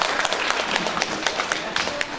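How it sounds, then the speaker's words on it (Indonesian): An audience at an alumni gathering of Yayasan Salafiyah in Pekalongan applauds a guest speaker, a steady burst of many hands clapping at close range that carries on through the whole stretch with little variation. "Semuanya tepuk tangan untuk Pak Hakam Najah."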